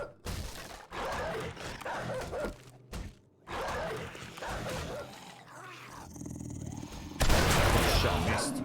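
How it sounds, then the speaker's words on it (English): Many dogs barking in the video game 7 Days to Die, a dense, noisy mix of barks, growls and bursts across the scene, loud throughout with a brief lull and a sharp louder surge near the end. "Sounds like quite a lot of dogs."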